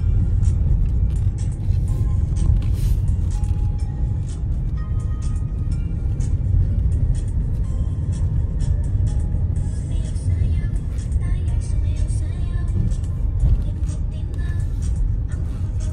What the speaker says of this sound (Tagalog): Ang truck. Ang laki ng truck.